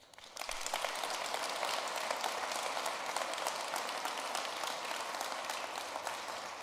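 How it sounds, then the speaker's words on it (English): A crowd at a Dutch electric aircraft startup's presentation of its 44-seat plane concept breaks into sustained applause for the team, a dense, even patter of clapping that starts abruptly and holds steady, somewhat distant and soft. "I would like to give them a big warm applause right now"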